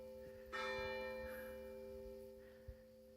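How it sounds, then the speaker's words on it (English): Church bells ring out over the hilltop village of Cibottola, Italy, a sustained, humming peal with a strong strike early on and long ringing overtones that slowly fade, heard from some distance outdoors. "didn't know they still rang the bells up here at Cibotolla."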